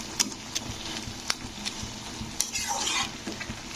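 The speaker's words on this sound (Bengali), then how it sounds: "একটু শাকটাকে ঘেঁটে দেব।" A metal spatula stirring leafy note shaak greens in a pan for a Bengali chorchori, sharp repeated scrapes and clicks over a constant close sizzle, with a longer scraping sweep near the end.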